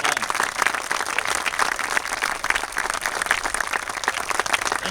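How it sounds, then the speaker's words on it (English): An audience at a National Trails Day talk at Standley Lake Library applauds, producing steady, dense clapping that holds evenly throughout without pause. "Give him a round of applause."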